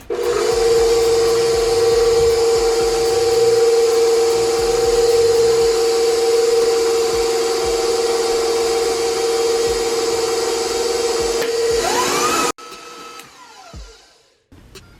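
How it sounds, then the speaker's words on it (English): An electric mixer on low speed beats banana bread batter with eggs and amaretto, giving a steady, loud motor whine for about twelve seconds before it cuts off, leaving quieter scraping and knocks. "I'm gonna put the mixer on low speed and add them in one at a time"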